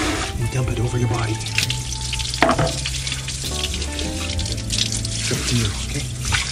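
Water from a basin splashes and pours over a body in bursts, close by, over steady running water at a Japanese hot spring, in an enclosed room.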